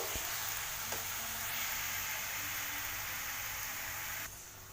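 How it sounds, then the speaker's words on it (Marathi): Fenugreek leaves sauté in a pan as a soft, even sizzling hiss with faint stirring, quiet throughout and dropping slightly near the end. "आता भाजी टाकल्यानंतर याला छान परतून घ्यायची ही पूर्ण भाजी खाली बसेपर्यंत चांगलं परतून घ्यायचं"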